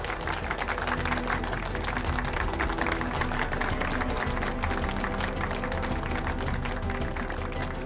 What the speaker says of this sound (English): one more round of applause for your winner of the Zabeel Mile